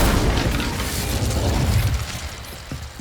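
An Incendio fire spell bursts in Hogwarts Legacy with a loud, booming blast and a dense low roar that holds steady for most of the moment, then thins out and fades near the end.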